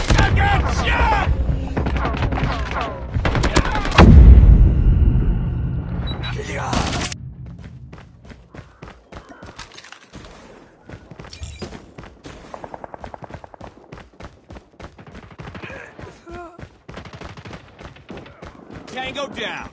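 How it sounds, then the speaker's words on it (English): Shotgun blasts and other gunfire ring out in a Call of Duty: Mobile match: a loud cluster of booming shots, then quicker rapid bursts, with in-game voices speaking between them. "Shotgun shot."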